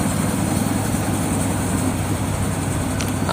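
Trawler ferry boat on the Padma river with its engine running as a steady, loud, low diesel drone that continues without a break, with no talking.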